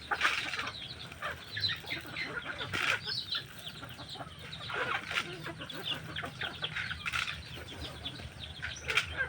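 Backyard chickens being fed by hand, clucking and squawking in a busy chorus with occasional wing flaps, close and fairly quiet, and a goat herd nearby.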